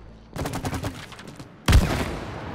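Gunfire in the co-op video game It Takes Two: a rapid burst of shots, then after a short pause a louder, heavier blast that trails off.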